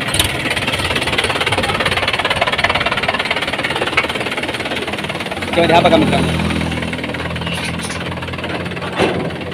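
A tractor engine drives a tokri cutter thresher made by Jagdamba Agro Industries, a steady loud mechanical drone with knocking and a heavier surge midway, while someone talks over it.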